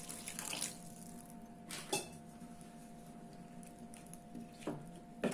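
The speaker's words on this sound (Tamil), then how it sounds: "நான் கொஞ்சமா தண்ணி ஊத்துறேன்." Water is poured into a cooking pot of chicken and potato curry, a soft, faint splash with a few light metallic clinks from the pot in a quiet kitchen.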